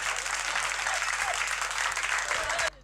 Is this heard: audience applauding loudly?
yes